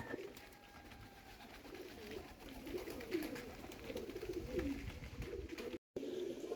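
Several pigeons coo in low, rolling murmurs throughout, close by, with light rustling and a brief dropout near the end.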